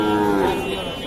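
A Sahiwal cow at the busy Ambari cattle market in northern Bangladesh gives one loud, close, drawn-out moo that fades over about a second.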